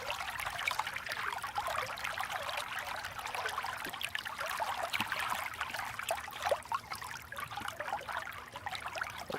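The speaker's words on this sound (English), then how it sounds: "I kind of like that river sound, you know?" River water flows with a steady, soft rushing and trickling, continuous and fairly faint, with no voices.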